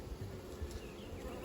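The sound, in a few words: honey bees buzzing at an open hive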